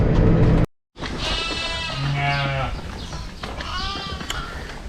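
Sheep bleat inside a barn during lambing season, several loud harmonic calls overlapping one another over steady barn noise, following a brief cut to silence near the start.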